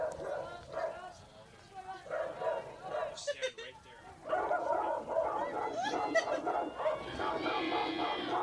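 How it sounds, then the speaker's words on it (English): Dogs bark and yip repeatedly at an outdoor softball game, in bursts under a crowd murmur while an announcer talks over them. "There's a lot of dogs barking here for this at-bat."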